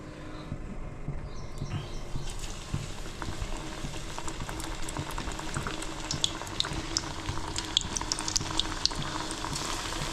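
Raw banana bajji fritters fry in hot oil, giving a dense, continuous sizzle and bubbling close up. Small pops and crackles come through the steady hiss.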